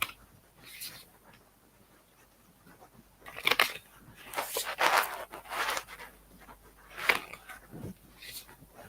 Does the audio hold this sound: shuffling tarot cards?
yes